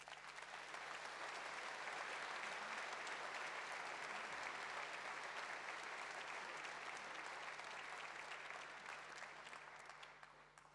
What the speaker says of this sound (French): vous pouvez applaudir tous ces jeunes